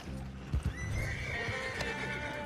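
Horses in Red Dead Redemption 2 gallop with quick, close hoof clip-clops, and a long whinny rises over the hoofbeats.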